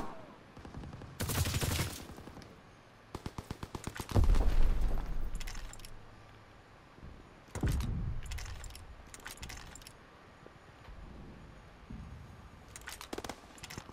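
Gunfire in the Call of Duty WWII game: irregular bursts of rapid shots and louder blasts come and go over a low rumbling battlefield bed, with occasional voices in the mix.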